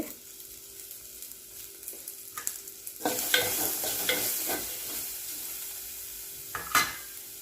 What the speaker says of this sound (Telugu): ఇప్పుడు ఇందులో సరిపోయేంత ఉప్పు పసుపు కూడా వేసి కలుపుకోవాలి